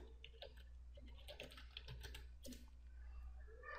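Quick, light keystrokes patter on a computer keyboard in a steady burst of clicks, close but quiet, with no voices over them.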